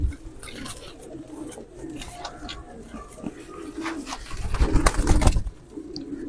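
Silver Hercules pigeons coo in low, throaty rolls close by, overlapping and repeating over a few seconds, with faint background murmur of a voice.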